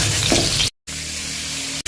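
Half a block of Star margarine melting in hot oil in a pan gives a steady, close, broadband sizzle, broken by a short cut of silence partway through, with no talking.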